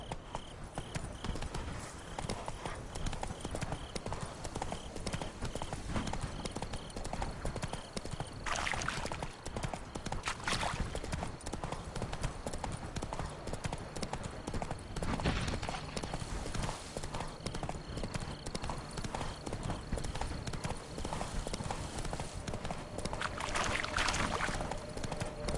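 Roach the horse trots in The Witcher 3, hooves clip-clopping in a steady, continuous rhythm over a dense ambient game soundscape.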